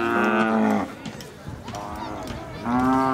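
A young Khillar bull at an Indian agricultural exhibition gives two loud, drawn-out moos close by, separated by a short pause with faint crowd noise between them.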